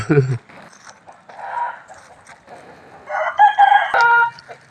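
A rooster crows at Wat Pong Chai, a temple in Chae Hom, Lampang, with clucking fowl around it. The crowing is loud and close, and people talk in Thai throughout.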